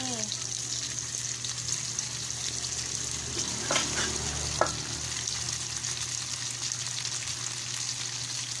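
Pork and vegetables sizzle in tomato sauce in a pan, a continuous close frying hiss broken by a few scraping stirs, with faint background sounds.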